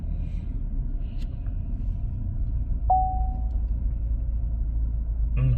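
A car pulls away under automatic parking, a low steady engine and road rumble heard from inside the cabin, with a short electronic tone in the middle and a few faint beeps.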